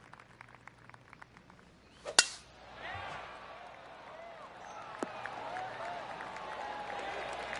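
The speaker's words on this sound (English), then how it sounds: "Oh, golf clap." At a golf tournament, a crisp club strike is followed by a polite spread of faint, distant applause from the gallery that swells softly and lingers.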